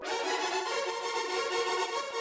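A Serum 2 synth patch using granular unison spawn sustains as a dense, shimmering, bright pad with a steady, slightly pulsing texture, heard alone and close.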